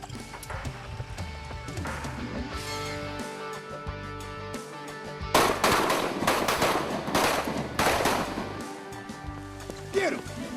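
Shotgun blasts ring out during teal duck hunting on Kentucky Lake: a cluster of sharp, loud reports in quick succession amid outdoor ambience, with people talking before and after.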